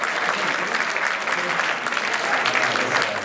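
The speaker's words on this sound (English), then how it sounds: "You can clap again." A student audience at a high school claps steadily for a guest speaker, a dense, even wash of many hands that holds at full strength for about three seconds without fading.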